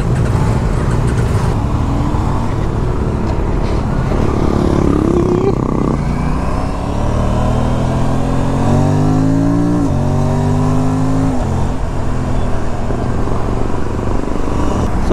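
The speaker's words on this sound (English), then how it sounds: "I am not sure if you will be able to hear our bike sound when we have these 4 cylinders with us." A group of KTM RS 457 motorcycles rides alongside four-cylinder superbikes on Hyderabad's ring road, with loud continuous engine drone, several rising revs and gear changes, and heavy wind noise throughout.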